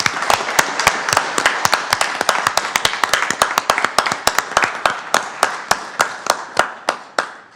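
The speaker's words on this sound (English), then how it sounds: "if we could give a round of applause to Caden tonight" Small council meeting audience applauding for Caden, sharp distinct claps in an uneven rhythm, close and fairly loud, with a few people clapping and the claps thinning and slowing toward the end.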